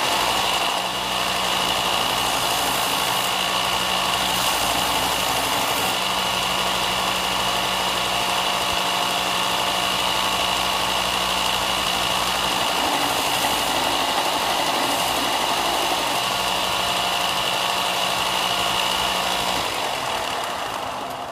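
A belt sander grinds steadily on a railroad spike axe head, a continuous loud whirring hum with slight changes in tone as the metal is pressed against the belt, running for about twenty seconds before easing off.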